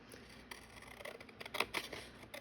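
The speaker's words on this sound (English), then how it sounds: "I'm just cutting a little piece off of this." Scissors cut a small piece of leather for a junk journal craft, a short, quiet run of crisp snips and clicks that grows denser toward the end, with no talking.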